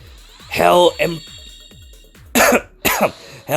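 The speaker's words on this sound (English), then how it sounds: "my throat is dying and I'm coughing" A person coughs repeatedly with a sore throat, giving two close, harsh bursts early on and then three more in quick succession near the end, separated by quiet gaps.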